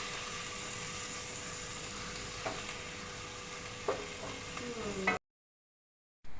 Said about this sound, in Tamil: அது கூடவே நம்ம பச்சை மிளகாவும் சேர்த்து நல்லா ஃப்ரை பண்ண போகிறோம்.